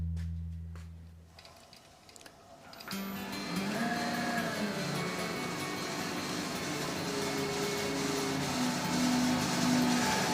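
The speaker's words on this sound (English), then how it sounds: "So it'll probably be a bit noisier than the previous lathe." A wood lathe, set up for routing and fluting a shaving brush handle, starts up and runs with a steady, loud mechanical hum and whine that fills the space after a quieter stretch at the start.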